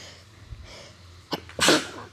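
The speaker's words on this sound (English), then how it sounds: "I'm about to sneeze, y'all." A single sharp sneeze bursts out near the mic after a short indrawn breath, loud against a quiet room.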